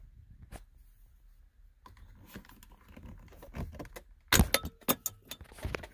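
A plastic middle console trim piece on a 2012 VW Beetle is pried and pops off, with soft fumbling clicks building to a loud sharp snap followed by a few rattling plastic knocks close by.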